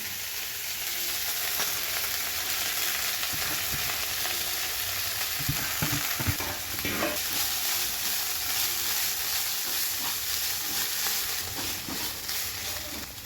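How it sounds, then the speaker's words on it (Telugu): Tender tamarind leaves fry in hot oil over a low stove, giving a steady close sizzle and hiss throughout with a few soft stirring knocks near the middle. "నూనె వేడెక్కినాక చింత చిగురు వేసుకోవాలి"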